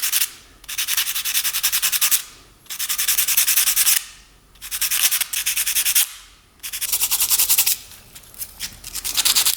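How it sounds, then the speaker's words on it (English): Ignition points contacts on a two-stroke motorcycle being sanded by hand, four loud, close bursts of rough scraping strokes separated by short pauses. "We'll sand those down"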